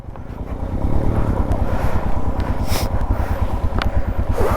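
A motorcycle rides through a water crossing on a snowy mountain route in Zanskar. The engine thumps steadily at low speed under half clutch, with water sloshing and wind buffeting the microphone throughout.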